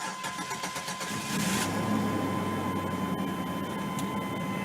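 A Chevy car engine cold-starting in the cold: a short cranking whir, then the engine catches and settles into a steady close idle.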